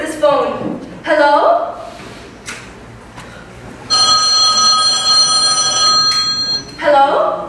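A telephone bell rings in a steady trilling burst through the middle of the scene, with a voice talking before and after it in an old radio-drama setting.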